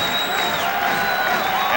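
Crowd at a 1991 NBA Finals game between the Chicago Bulls and Los Angeles Lakers, a steady dense arena roar with scattered cheering and whistles, heard briefly and loudly throughout.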